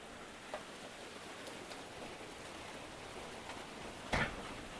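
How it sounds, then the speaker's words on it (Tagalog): Heavy rain pours during a typhoon at a resort in Infanta, a steady, soft broadband patter with a brief louder splash near the end and no voices. "Sobrang lakas ng ulan."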